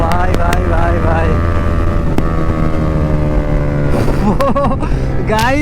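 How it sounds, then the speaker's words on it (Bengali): A motorcycle engine roars loudly during an N160 versus MT-15 group ride race, revving and shifting in steady pitch sweeps under heavy wind rush, with brief raised voices near the end. "গাইস লেভেলের সাউন্ড দিচ্ছে বাইক থেকে।"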